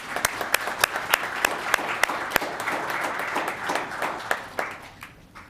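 Audience at a town council meeting bursts into applause, a dense wash of clapping from a room full of people with a few sharper claps standing out, fading away near the end.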